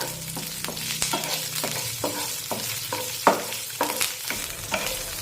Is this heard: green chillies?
yes